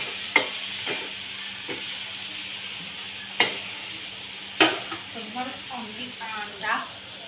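An egg is cracked into a hot pan for egg bhurji, with several sharp taps and cracks followed by soft sizzling and stirring. Someone speaks briefly near the end.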